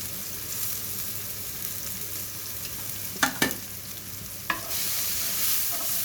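Onions and garlic sweating in a pan make a soft, steady sizzle, interrupted by a few sharp scraping stirs and a clack of the utensil midway through.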